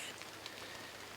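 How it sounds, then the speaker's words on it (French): Light rain pattering steadily in a forest during spring bear hunting season, a soft, even hiss of drops on leaves and surfaces with no voices. "Il pleut encore."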